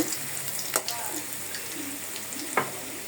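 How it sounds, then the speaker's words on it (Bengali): Leafy greens, added with a little water to a wok, fry with a steady soft sizzle and a couple of sharp stirring scrapes, no talking. "এখন শাক দিয়ে দিলাম।"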